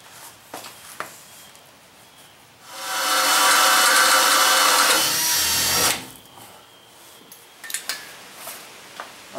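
A power drill bores 1/8 inch holes into the steel main subframe of a '67 Ford F100, one steady high-pitched grinding burst of about three seconds, close and loud, with faint clicks and handling noise before and after.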